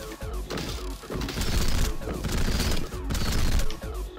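A Gatling cannon firing in the video game Rengoku: The Tower of Purgatory, with dense rapid bursts of loud mechanical gunfire and crashing impacts, pulsing in waves over several seconds.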